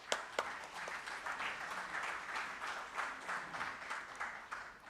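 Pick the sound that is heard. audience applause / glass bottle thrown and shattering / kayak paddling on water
audience applause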